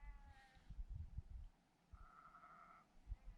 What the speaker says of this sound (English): There are sheep around, you can probably hear them